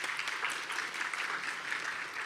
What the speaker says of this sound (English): So please give a hand of applause to Julian,